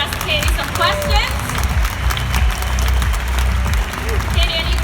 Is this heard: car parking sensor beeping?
no